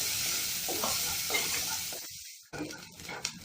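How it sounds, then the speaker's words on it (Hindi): Steady sizzling of onions frying in a pan with green chillies, with a brief scrape of stirring and a short pause before the crackle resumes. "प्याज को सॉफ्ट होने तक कुक कर ले रही हूँ।"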